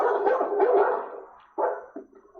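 A dog barks in a burst of rough, overlapping yaps, falls quiet briefly, then gives a couple more sharp barks close to the listener, with no talking.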